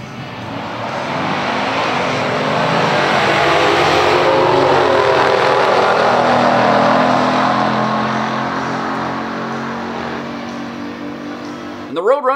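A 2019 Dodge Challenger 392 Shaker and a 1970 Plymouth Road Runner 426 Hemi launch down a quarter-mile drag strip in a stock drag race, engines roaring loudly as they accelerate and swell to a peak before fading away.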